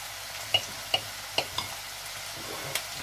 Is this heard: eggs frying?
yes